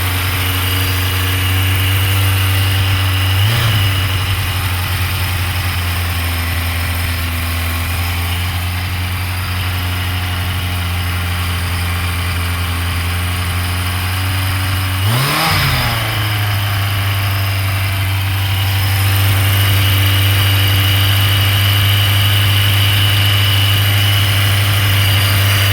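A 1981 Yamaha FJ 750 Seca motorcycle, its carburetors freshly rebuilt, idles loud and close with a steady, slightly high rumble, while two brief throttle blips rise and fall along the way.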